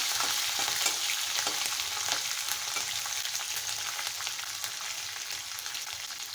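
Chopped green chillies fry in hot oil for a quick poha breakfast, giving a steady, close, bright sizzle that holds evenly throughout with no voices.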